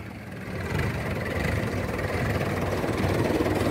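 A 1998-model tractor, about thirty years old, idles close by with a steady low rumble and an even, unbroken drone throughout. No voices are heard.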